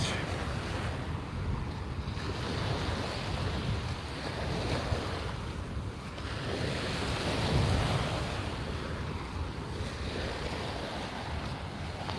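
Waves wash onto a beach in steady, rolling surges of surf, with gusts of wind buffeting the microphone over a constant roar of the water.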